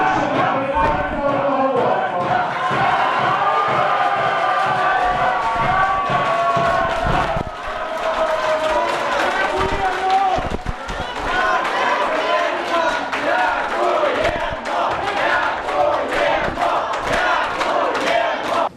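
A large crowd chants loudly and rhythmically in unison at a city council meeting, the repeated shouts of thanks filling the room steadily for the whole stretch after the vote on bus and trolleybus fares, with a brief dip midway.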